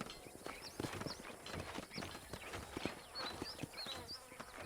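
Horse hooves clip-clop in a steady walking rhythm within the Red Dead Redemption video game, faint and fairly close, with light chirping ambience around them.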